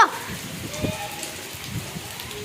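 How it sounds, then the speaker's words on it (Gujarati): Heavy rain patters steadily close by, with scattered low thuds and splashes over the constant wash of falling water. "કેટલો બધો વરસાદ પડે છે"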